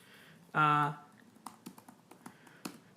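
A Lenovo Yoga C630 laptop keyboard being typed on, a short burst of voice first and then a run of quick, light key taps at close range.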